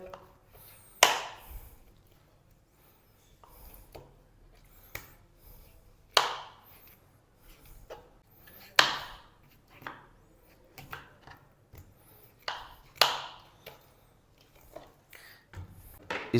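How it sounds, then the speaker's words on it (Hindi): A knife cuts slits into raw chicken pieces for broast, making a series of sharp, irregular chops and taps on a board, spaced every second or two, fairly close and moderately loud with no talk. "ये इस तरीके से हमने इनको कट लगाने हैं। दूसरी साइड से लगा लेंगे।"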